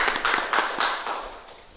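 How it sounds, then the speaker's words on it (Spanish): A few sharp claps from an audience at a round-table discussion, a brief scattered burst that quickly fades. "Un fuerte aplauso también, por favor."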